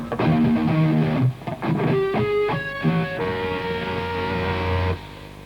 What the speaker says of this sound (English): I'm using a distortion pedal to get this thing to run like this.